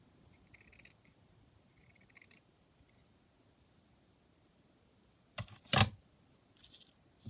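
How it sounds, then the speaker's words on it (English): Scissors trimming the edge of a fabric and paper cluster craft piece: a few soft, faint snips early on, then a sharper burst of close cutting near the end, otherwise quiet. "I'm just going to trim it down here at this edge"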